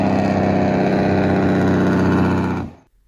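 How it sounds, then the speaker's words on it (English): A truck's Jake brake engine braking gives a loud, steady, dense rumbling clatter with even pulsing that holds for about two and a half seconds, then cuts off abruptly into silence. "the rapid opening of exhaust valves across multiple cylinders produces a distinctive staccato clatter that carries for a considerable distance"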